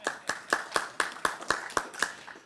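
About ten crisp hand claps at a steady, fairly quick beat, a small group greeting an investor panel on Asian mining at a conference, with no talk over them.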